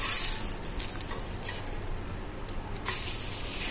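Semolina flatbread dough frying in oil in a pan for breakfast, a steady soft sizzle and crackle with a few brief scraping touches, close and moderately quiet, no talking.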